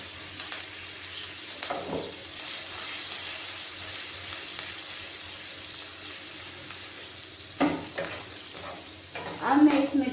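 Aloo kachori filling roasting in a pan, with a continuous soft sizzle and a few spoon scrapes and stirring knocks near the end, close and moderately loud.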